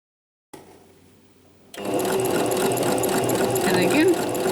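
Sewing machine stitching a crocheted popcorn-square bag, a quiet hum at first, then a loud, fast, close mechanical whir of continuous stitching.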